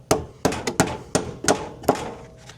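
A hammer strikes a bolt on a solar inverter six times in an uneven rhythm, each hit a sharp, close metallic thunk followed by a short ring, with no voices.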